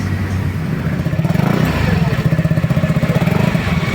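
A SYM Naga 150 motorcycle engine runs close by, idling then rising into a steady, pulsing throb with a firm rhythmic beat that holds to the end, with no talk over it.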